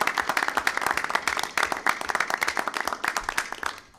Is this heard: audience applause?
yes